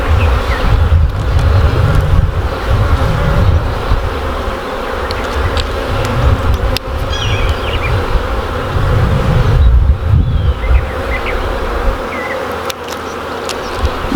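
Honey bees buzz continuously around open hives during a split inspection, a dense, loud, steady drone of many insects close by with no voices.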